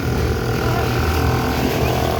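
A gasoline engine drives a motor boat, a steady droning hum with a low, even rumble running continuously and close, no voices over it.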